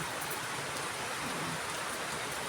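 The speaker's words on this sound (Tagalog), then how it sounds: "ang lakas po talaga ng ulan" Heavy rain pours steadily onto a street in a dense, unbroken hiss that stays loud and even throughout, with no voices over it.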